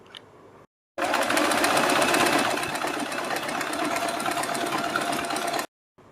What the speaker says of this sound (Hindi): अब हम इस पट्टी के ऊपर यहाँ पर एक सिलाई लगाएंगे और वो सिलाई हम बड़ी करके लगाएंगे